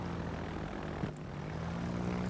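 Carrier aircraft flying in the World of Warships naval game, a steady droning propeller engine hum that holds constant throughout with a brief whoosh in the middle, no talking.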